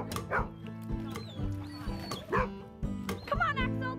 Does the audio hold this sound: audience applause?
no